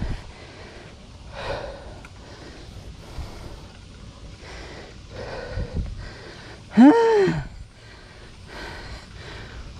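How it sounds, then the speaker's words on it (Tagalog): Heavy, labored breathing of a cyclist out of breath, with ragged gasps and wheezy inhales in uneven bursts, close up, over faint wind noise. "Hingal agad."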